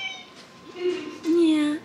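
A cat in a room with disco lights and a TV meows twice, a short mew then a longer drawn-out one, close and clear over faint background sound.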